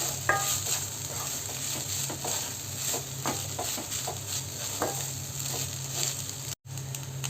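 Chilli garlic egg rice with coriander leaves being stirred in a hot pan: continuous close scraping and tossing over a light sizzle, with a brief cut near the end and no talk.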